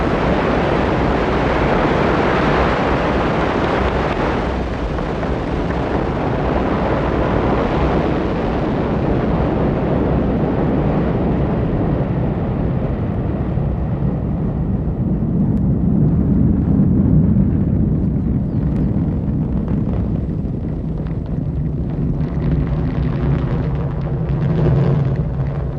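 Ariane 5 rocket launch, a continuous loud, deep roar with broad rumbling noise that holds steady and slowly darkens over about half a minute, heard from a distance with no voices.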